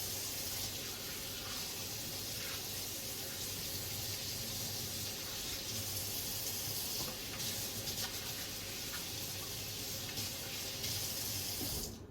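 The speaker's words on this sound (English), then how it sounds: "Now we're going to wash our hands." Steady hiss of tap water running into a sink as hands are washed during meat seasoning prep, a constant close splashing flow that cuts off at the end.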